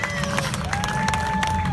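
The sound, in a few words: crowd cheering for commander Fernando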